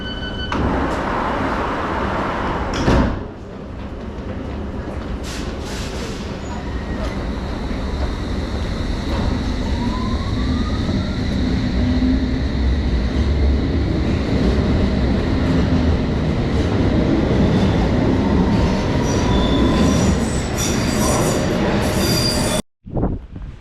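A London Underground train rumbling loudly and steadily, with squealing wheels and rattling carriages throughout, ending in a sudden brief drop.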